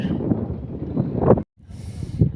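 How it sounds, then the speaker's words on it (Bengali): Gusting wind by a river buffets the microphone in rough low rushes, cutting out briefly before returning with a faint hiss. "কি সুন্দর হাওয়া দিচ্ছে একবার"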